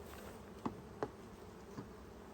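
Honeybees from a package being installed into a hive hum faintly in the background, with a few soft knocks and bumps standing out against the steady low drone.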